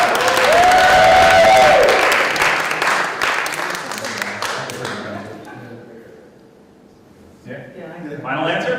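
A game-show studio audience cheers and applauds loudly, whoops rising over dense clapping, then the noise fades within a few seconds and voices talk near the end.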